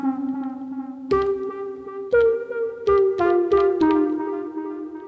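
A synth step sound from an Elektron Digitone sound pack plays a short melodic sequence of plucky, harmonically rich notes, several quick steps shifting pitch over a sustained tone, with no voices.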